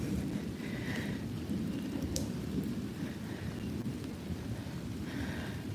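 Steady heavy rain pours across a cemetery in Fort Houston, East Texas, with a sharp thunder crack and a few rumbles breaking through the constant hiss, no voices present.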